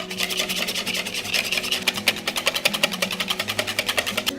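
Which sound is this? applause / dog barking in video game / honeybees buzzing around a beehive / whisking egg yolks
whisking egg yolks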